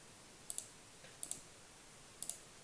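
A computer mouse clicks quietly in three paired bursts, each a quick double click spaced about a second apart, close and crisp against a near-silent background.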